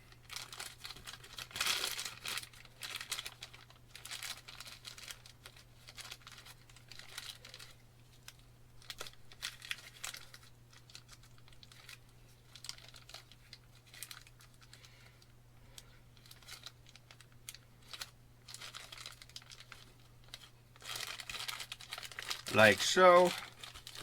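A plastic bag crinkles in intermittent bursts while a boost bolt is installed on a 6.7 Cummins engine, with someone talking quietly and a few faint clicks and rustles at close range.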